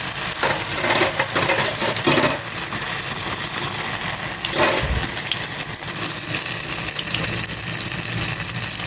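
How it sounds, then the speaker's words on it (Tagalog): Eggplant slices frying in oil in a pan give a steady, close sizzle and crackle that runs the whole time, with a few brief clatters over the top. "Ito na po yung talong. Dito po nagpiprito."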